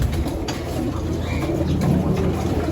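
A young grizzle pigeon at a backyard loft gives soft, low cooing phrases against steady outdoor background noise, with no talk.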